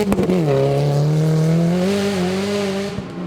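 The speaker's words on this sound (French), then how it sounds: "En 2 roues motrices, la Honda Civic de Leblanc et Dubé est très rapide" A front-wheel-drive Honda Civic rally car racing hard on a rally stage in Quebec, its engine revving loud and close with a rising then steady pitch, a brief tire or gravel burst near the start.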